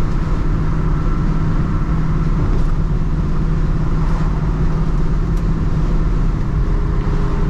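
A 1970 Chevrolet Nova Yenko tribute drives along, its engine giving a steady, loud, continuous low rumble from start to finish with no talking over it.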